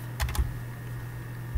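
Keys on a computer keyboard are tapped while game code is written: a short burst of quick, soft clicks, a pause, then one more keystroke, all over a steady low electrical hum.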